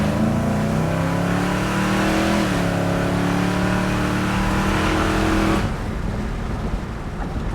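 A 1966 Chevelle with a GM crate 383 stroker engine and Sniper EFI pulls hard in first gear, its loud engine note climbing steadily for several seconds before easing off near the end, with no talk over it.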